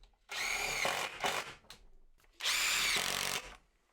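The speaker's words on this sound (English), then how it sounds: "I've got a couple of little strips of wood that I'm just going to get screwed to the underside to help keep" Power drill driving screws through small wood strips into the underside of a garden storage bench lid, two loud bursts of whirring with a brief pause between them, close and alone.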